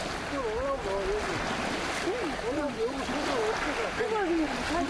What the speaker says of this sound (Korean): 아유, 파도가 쳐요, 파도가.